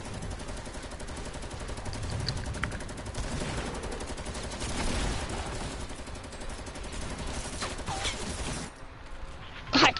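Rapid bursts of automatic gunfire from a Fortnite match crackle almost continuously, dense and loud, with a brief lull near the end followed by a sharp final shot.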